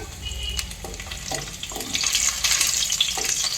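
Garlic frying in oil in a pan while making a radish leaf curry: a steady bright sizzle that grows louder toward the end, with a few soft stirring scrapes and no talking.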